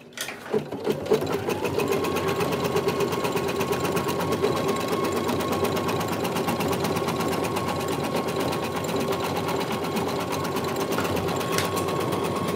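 An embroidery machine stitches a patch with a steady, fast mechanical hum and rapid needle chatter that continues evenly throughout at close range.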